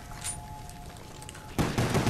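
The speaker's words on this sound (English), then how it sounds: "I'm gonna utilize that by shooting my pistol" Pistol fire in Black Ops Zombies on the Kino Der Toten map, a dense burst of close, loud shots that breaks out suddenly after a quieter stretch and keeps going to the end.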